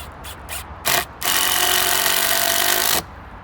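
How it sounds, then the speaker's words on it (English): A power drill drives deck screws into pallet wood slats while a compost bin is being built, with a few short taps first, then a brief burst and a loud, steady whir lasting nearly two seconds before stopping. "these are the pallet slats I was just screwing on"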